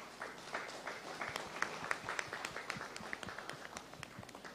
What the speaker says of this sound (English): firstly, to thank, via applause, the panellists for their participation